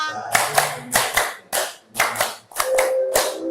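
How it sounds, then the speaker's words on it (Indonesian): Hands clap in a counted classroom-style pattern, bursts of sharp claps in groups separated by short pauses, close and fairly loud, with faint voices in the background. "tepuk 2, tepuk 3, tepuk 4, tepuk 5. 2 kali tepuk 5."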